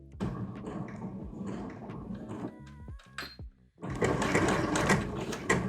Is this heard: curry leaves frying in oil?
no